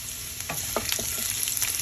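Garlic tadka sizzles in normal cooking oil for daal, a steady, close frying hiss broken by quick clinks and scrapes of stirring.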